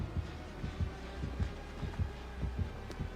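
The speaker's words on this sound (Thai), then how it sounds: "ยังไม่เห็นตัวมันเลย เห็นได้ยินแต่เสียงหัวใจ" Heartbeat effect from the video game Dead by Daylight: a steady, low, thumping double pulse repeating about every half second under a hum-filled background, with no talk.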